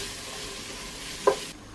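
Dried shrimp (ebi) sautéing in a pan, a soft steady sizzle with one short sharp crackle or stir near the end, close and alone.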